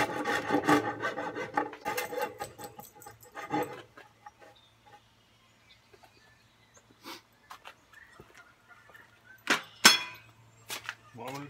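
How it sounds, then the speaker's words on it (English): A hand rasp files the wood of a Viking camp chair outdoors in short scraping strokes. There are bursts at the start and again near the end, with quiet gaps and a few light knocks between them. "I'm going to take my rasp and clean that up a little bit."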